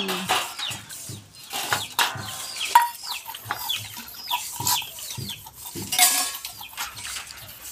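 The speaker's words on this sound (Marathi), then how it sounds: "ते दोघी घासतात तिकडं भांडी" Two people scrubbing dishes and pots at a home, heard as repeated clinks and scrapes of metal utensils in an irregular rhythm, with chickens clucking and a rooster calling close by.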